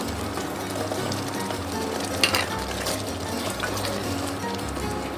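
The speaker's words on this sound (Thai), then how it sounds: "ผัดให้หมูสลดตัวก่อน ค่อยใส่ผักครับผม" Pork belly stir-frying in a hot pan for a Thai pumpkin curry, a dense continuous sizzle with scraping stirs and one sharper clatter, close and steady, without talking.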